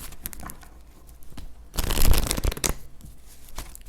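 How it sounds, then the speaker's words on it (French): Oracle cards are handled, shuffled and laid down during a tarot-style reading, producing close papery rustling and flicking with a louder burst of riffling in the middle, no talking. "je rajoute une carte de l'améthyste"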